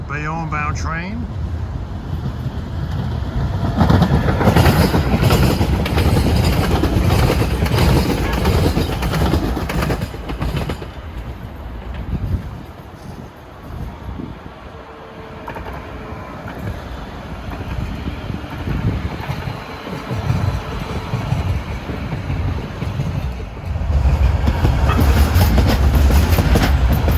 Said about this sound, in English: Oh, here comes a Bayonne bound train.